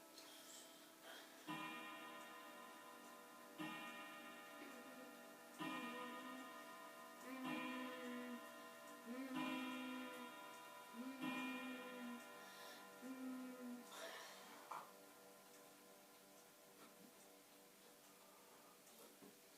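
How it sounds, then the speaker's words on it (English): A clock strikes the hour during a Christmas dinner, a series of evenly spaced ringing chimes about every two seconds, moderately near, with soft room noise between strikes. "See, this is the on the hour chime."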